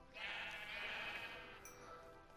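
Sheep bleating in the Minecraft video game, a sustained wavering bleat lasting about a second and a half, steady and fairly close, with no talk over it.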